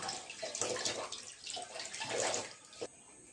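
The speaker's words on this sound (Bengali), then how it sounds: "সব মাছ ধোয়া হয়ে গেছে" Tap water runs steadily in a home kitchen sink while freshly scaled fish are rinsed, a continuous splashing hiss with small surges and splatters, close and fairly loud.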